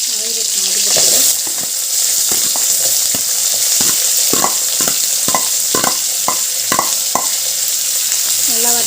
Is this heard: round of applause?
no